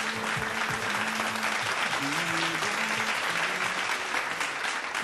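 Loud, sustained applause from the audience at a Mangala Gaur women's festival event in Mumbai: a thick, continuous wash of many hands clapping at once, with a voice faintly audible beneath it.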